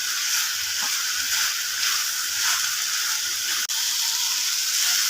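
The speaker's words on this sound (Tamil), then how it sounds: "இதில் இருக்கிற ஈரத்தன்மை போய் எப்படி நல்லா ஃப்ரை ஆகி வருது பாருங்கள்." Capsicum and brinjal frying in a pan, a steady bright sizzle that holds evenly throughout with one brief dropout near the end and no talk.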